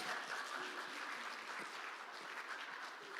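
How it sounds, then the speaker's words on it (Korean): A church congregation at a Friday evening gathering applauds steadily, a soft continuous wash of clapping with no talking, faint and even throughout. "자 박수."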